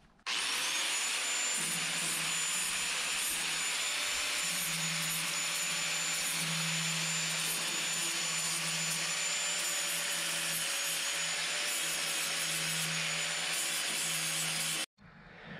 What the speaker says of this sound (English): now all that's left to do is just kind of sand over these corners. They got some nice sharp burrs on them